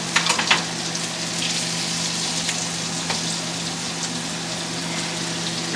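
Butter sizzling steadily in a hot pan as scallops are seared, a continuous close frying hiss with a few small pops near the start, no voices.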